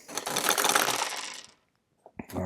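Six red dice dropped together into a dice tower, a brief loud rattling clatter of dice tumbling down inside, then a short silence and a couple of small knocks as they settle, with no voices.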